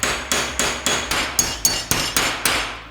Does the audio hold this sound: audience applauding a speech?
no